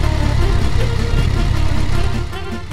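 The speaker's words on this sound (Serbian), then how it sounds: "Koristim činjenicu da sam na motoru, pa obilazim kolonu vozila." Motorcycle engine running steadily and loud, up close, as the rider filters past a queue of vehicles at the Bulgarian–Romanian border crossing, with a continuous low rumble and no talk.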